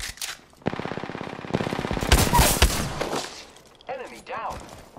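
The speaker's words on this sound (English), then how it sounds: "The enemies are shooting at me." Rapid automatic gunfire from enemies in the battle royale shooter Apex Legends, sustained bursts rattling for several seconds at close range, with voices talking briefly near the end.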